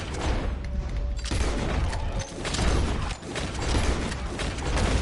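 Rapid gunfire in Red Dead Redemption 2 rattles on as a loud, dense, continuous barrage, with no clear gaps between the shots across the whole stretch.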